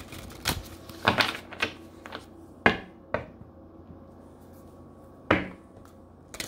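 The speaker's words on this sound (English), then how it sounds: "I'm going to shuffle three more times." Tarot cards are shuffled and tapped in a series of crisp, brief riffles and snaps, close and fairly quiet, with pauses between.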